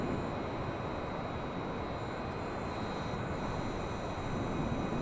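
A Boeing 787 touches down at Melbourne airport in Microsoft Flight Simulator, a loud, steady broadband engine and airflow roar filling the whole stretch without a break, no voices.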